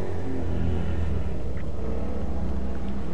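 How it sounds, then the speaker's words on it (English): A steady low engine rumble of motorbikes passing outside, continuous and fairly loud, with no talking. "I apologise if you can hear the rather loud motorbikes outside."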